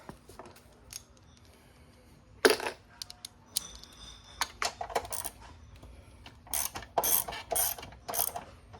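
Close-up ratchet with a 12 mm socket working a rear rack bolt on a Honda Dax125 motorcycle: irregular bursts of metallic clicking, some sharp clanks and short pauses between strokes.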